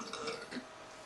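A girl's low, gurgling burp rises briefly and fades, faint and close, at a family burping contest among three blonde girls, with no talk over it.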